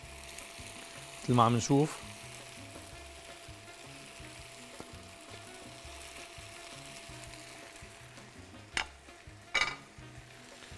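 Noodles and vegetables hiss softly as they are stir-fried in a pan, a low, continuous sizzle with a few clinks and scrapes, while a voice speaks briefly near the start.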